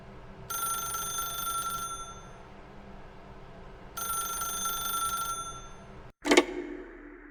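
Telephone ringing in the video game The Stanley Parable, two long electronic ring bursts separated by a pause, clear and fairly loud, followed by a sharp click and clatter as it ends.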